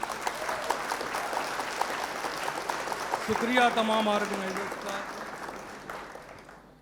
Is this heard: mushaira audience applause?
yes